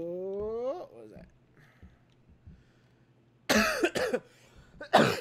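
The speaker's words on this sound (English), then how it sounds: "This cough's getting worse." Coughing fits from a man streaming an indie horror game, heard as harsh, noisy bursts late in the clip, with a clustered double burst and another at the end, following some earlier vocal sounds over a quiet, hum-filled background.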